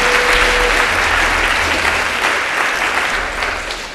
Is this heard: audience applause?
yes